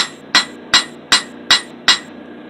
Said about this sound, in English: I believe what this is called is planishing.